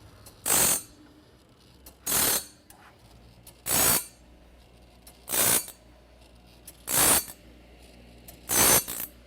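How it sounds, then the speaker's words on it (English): A TimberKing Talon grinder sharpening the gullet of a sawmill blade: six evenly spaced bright grinding bursts, each about half a second long and roughly every 1.6 seconds, with quiet mechanical hum between them. "That's what can happen when you're playing around with the grinder."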